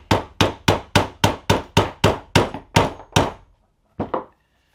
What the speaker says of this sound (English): we're going to drive the magazine dovetail out right here, this tenon